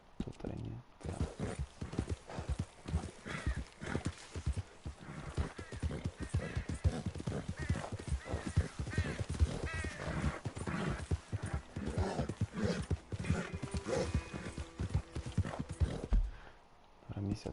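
Horse hooves clip-clop steadily in Red Dead Redemption II, set around Rhodes, with occasional whinnies, running beneath near-continuous talk for most of the stretch.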